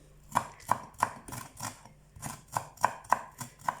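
Knife finely chopping fresh dill on a cutting board, a steady run of sharp close taps with a short pause midway.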